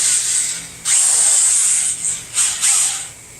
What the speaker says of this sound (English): we're going to get started with our ball honing. We're going to put our ball hone in our drill.